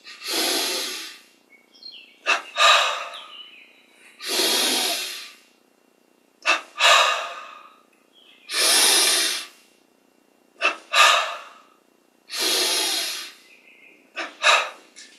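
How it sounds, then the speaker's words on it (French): Paced breathing exercise during a spiritual yoga session: repeated cycles of two quick sharp nasal inhales followed by a long, loud, airy exhale, close and clear, with no talking. "double inspire. Expire, on relâche."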